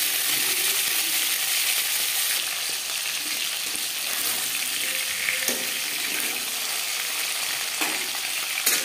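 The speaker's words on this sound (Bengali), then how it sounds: "আমি একটু হালকা করেই ভেজে নেব, আপনারা চাইলে এর থেকেও কড়া করে ভেজে নিতে পারেন।" Pieces of snakehead fish fry in hot oil in a kadai, giving a steady, close crackling sizzle with occasional stirring scrapes and no talk.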